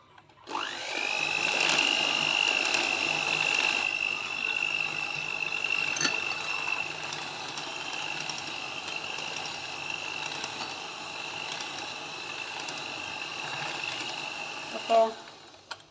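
An electric beater whips chocolate sponge cake batter with sugar, its motor starting with a rising whine, then holding a steady, close, high-pitched hum for about fifteen seconds before cutting off.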